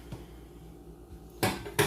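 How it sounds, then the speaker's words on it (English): Metal frying pans lifted out of a home kitchen oven while baking a chocolate zucchini loaf, giving two loud clattering bangs near the end after a quiet stretch, close by. "I'm going to take these frying pans out of my oven"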